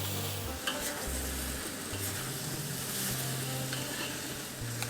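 Spring onions and green beans with fish sauce stir-fried in a hot pan, giving a loud, continuous sizzle with scraping stirring strokes throughout and no talking.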